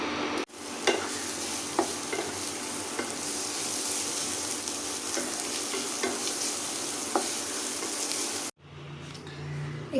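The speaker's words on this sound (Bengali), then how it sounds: "এখানে সরষা ফোড়ন দিয়ে কড়াইয়ে তেল দিয়ে দিয়েছি।" Mustard seeds tempering in hot oil in a kadai crackle with a loud, steady sizzle and scattered pops, close by, before the sound cuts off abruptly near the end.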